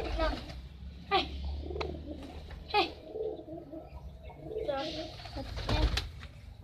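Domestic racing pigeons cooing in soft repeated rolling calls during Saturday training, with people talking nearby in the background.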